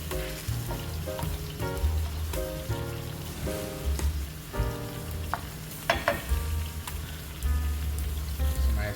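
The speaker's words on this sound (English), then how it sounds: "So I'm just gonna fry up my seasoning for a few minutes" Seasoning frying in a pan for Jamaican ackee and saltfish, a steady close sizzle and crackle with occasional clinks and scrapes from stirring, continuous throughout.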